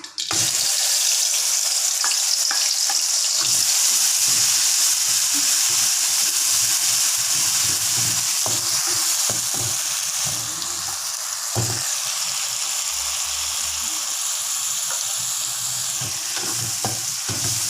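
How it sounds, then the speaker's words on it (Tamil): Ground spice paste of chili and tomato sizzling in hot oil in a pan, a steady loud frying hiss with occasional stirring clatter throughout, no voices. "அந்த எண்ணெயில் இந்த அரைச்சதெல்லாம் போட்டு"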